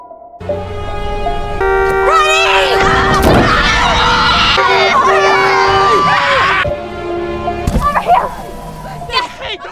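People on a beach shout and scream for help, raised voices overlapping loudly over a continuous rumbling background with music-like tones, fading toward the end.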